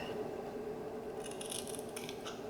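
Scissors snip a notch into creased pattern paper for a journal, a few crisp close cuts clustered in the latter half over a steady low hum.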